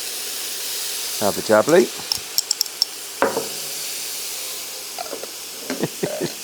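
Beef stew sizzles in a pot as garlic is tossed in, a steady hiss beneath a short spoken phrase, with a few light clinks and stirring knocks nearby.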